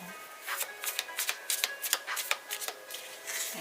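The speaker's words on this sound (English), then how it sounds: "I'm going to do 3 shuffles" Tarot cards being shuffled by hand, a steady run of crisp riffling flutters and soft slaps in quick bursts, close and clear with no voices.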